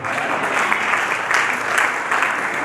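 A church congregation clapping during a sermon, sustained dense applause from many hands filling the space at even strength throughout, close and loud, with a faint murmur of voices beneath.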